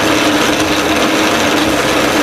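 A drill press set up as a makeshift lathe spins a shaft while a tool is fed in gradually, giving a steady close whirring and rubbing grind that runs unbroken through the whole stretch.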